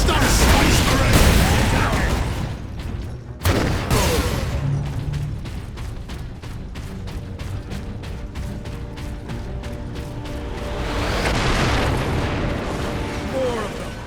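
Heavy bomb blasts boom and rumble in the Space Marine game, a loud opening eruption, another sharp burst, then a run of rapid mechanical clatter and a swelling roar, mixed with game voices.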